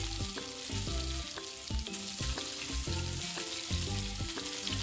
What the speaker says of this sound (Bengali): এই সময় গ্যাসের ফ্লেমটা কমিয়ে দিয়ে আস্তে আস্তে ভাজবো